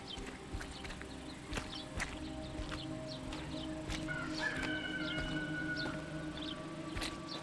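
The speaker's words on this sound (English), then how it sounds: "roosters don't actually make that noise until one of the roosters" A rooster crows in a survival horror video game, a drawn-out call in the middle of a busy ambient game soundscape with steady hum, faint clicks and other animal sounds, moderately loud with no talking.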